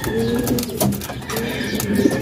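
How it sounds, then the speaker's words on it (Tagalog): Racing pigeons coo steadily at a loft during a summer training race return, with soft repeated coos layered over a rustling background. "pumasok na mga kalapatids"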